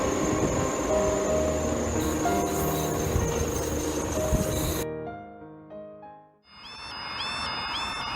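Train 6411 bound for Doncaster rumbling past at close range, a steady loud roar of wheels and engine that cuts off abruptly, followed by a short clatter and a quieter stretch with high whistling tones.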